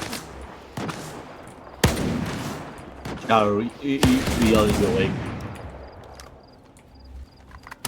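Sharp bursts of gunfire in the video game STALKER 2 crack out in scattered volleys, with a person speaking between and over the shots.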